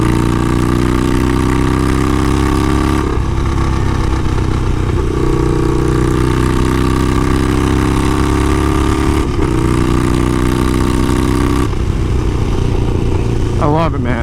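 A Harley-Davidson motorcycle fitted with The Coil exhaust from Kinetic Motorcycles cruises at 60 mph and downshifts from fifth to fourth gear. The loud, steady exhaust drone shifts pitch several times as the revs change, heard close from the rider's seat.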